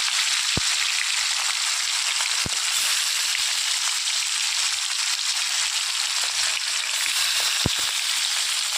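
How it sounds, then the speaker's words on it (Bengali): Slender bogo fish pieces fry in a kadai, giving a dense, constant hiss of bubbling oil with a few sharp pops and taps, steady and close throughout without any voices. "দেখুন মাছগুলোকে আমি লাল লাল করে, খুব কড়াও ভাজবো না, হালকাও ভাজবো না"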